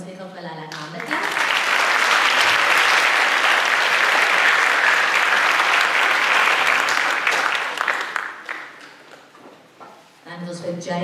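A school prestige evening audience applauds a chess team receiving half colours, a loud sustained wash of clapping that swells, holds for several seconds and fades as talking resumes at each end.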